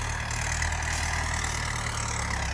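A farm tractor engine running at a steady idle, a low continuous rumble with no talk, constant in level throughout.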